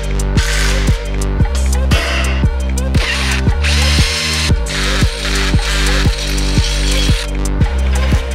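A power drill bores a hole through a mount plate for a VR6 engine swap into a VW Jetta, its motor whining steadily while the bit catches in rhythmic bursts about twice a second, loud and close.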